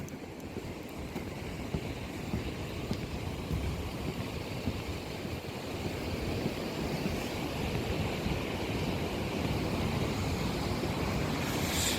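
Ocean waves crash steadily onto rocks below a seaside deck, a broad continuous roar of surf mixed with wind buffeting the microphone, loud and unbroken throughout with no speech.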